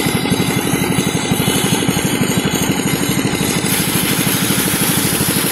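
A machine engine running in a village field beside a rice paddy, a loud, close, steady rhythmic chugging throb that continues unbroken.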